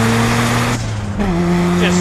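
Rotary engine of a 417-horsepower Mazda RX-7 pulling hard in third gear, a loud steady in-car drone that drops briefly at a shift gap then resumes at a lower pitch and climbs again, with a voice talking over it.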